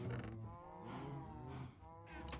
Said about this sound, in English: I've got lots of cows, which is really, really noisy